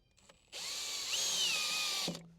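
Power drill driving a screw into wood at a sawmill, one steady high whine lasting about a second and a half before stopping abruptly, close and loud with no talk.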